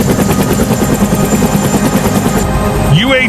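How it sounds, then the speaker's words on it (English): A Vietnam-era Bell UH-1N Huey military helicopter, loud and close, its rotor blades producing a rapid, steady thumping beat over a heavy turbine roar, with a brief voice near the end. "The deafening roar of rotor blades fills the air as Huey's UH-1N helicopter slices through the sky"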